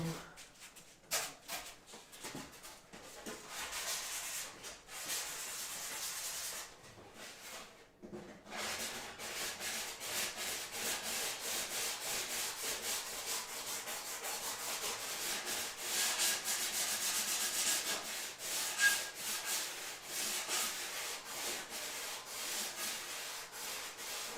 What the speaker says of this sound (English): I want to sand this piece though.